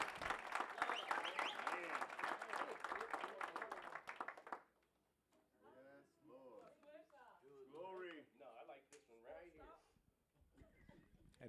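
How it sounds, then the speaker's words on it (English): Church congregation clapping at a Sunday service, a dense burst of applause with some voices, breaking off after about four seconds into a preacher talking alone. "Clap like you mean it."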